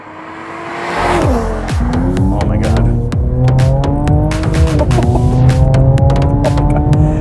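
A 2021 Mercedes-AMG E53 pulling away on the road: the engine note climbs steadily through rising revs and a gear change, close and loud, with continuous road and tire noise underneath.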